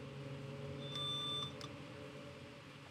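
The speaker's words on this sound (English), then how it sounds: "So it'll keep beeping because there's a yellow." Two short electronic beeps for a yellow signal warning, a longer tone then a brief second one, over a low steady engine hum in a train cab on the Bernina Line in Train Sim World 6.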